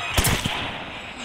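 A gunshot rings out in a shooting video game, one sharp close blast with a quick second crack, then a fading tail and background game noise.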